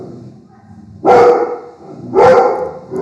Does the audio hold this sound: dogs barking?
yes